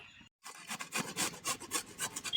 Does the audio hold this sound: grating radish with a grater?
yes